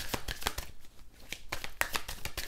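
Tarot or playing cards shuffled by hand during a French card reading, a series of quick riffling bursts with short pauses between them, close and moderately quiet, with no talking.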